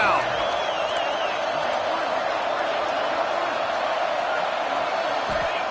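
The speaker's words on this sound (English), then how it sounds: "The crowd electric, trying to help Tech on this third down." A packed football stadium roars loudly and steadily as fans try to help Texas Tech on a third down, with a commentator talking over the crowd throughout.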